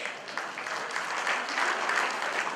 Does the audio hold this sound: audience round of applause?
yes